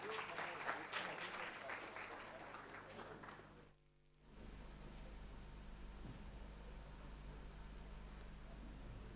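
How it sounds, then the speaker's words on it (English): Round of applause welcoming a speaker at a memorial lecture, a dense clapping crowd for about four seconds that cuts off, followed by a steady low hum. "Let's give a welcome round of applause to Swaminathan Gurumurthy."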